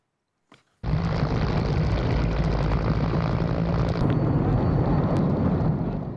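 A loud, steady roar of US Navy military helicopter engines starts suddenly and continues without a break, dense and close, like rotor or turbine wash.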